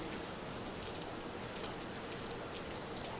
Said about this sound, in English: Ashley and Regina, we've been seeing some pretty steady rain and some pretty strong winds here in Norfolk and across Hampton Roads